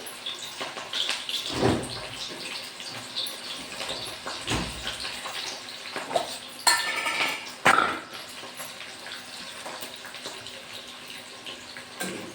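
Onions dropped into hot oil in a home kitchen pan for a sprouted moong usal, a steady sizzle and frying hiss with clinks of utensils and a couple of sharper knocks, close and continuous, with no talking.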